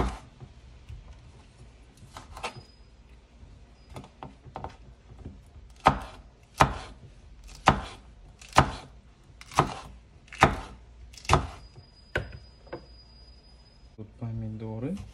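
A knife chopping hot chili pepper on a cutting board, a series of crisp, evenly spaced knocks that grow louder and steadier midway, with someone talking softly over the cutting.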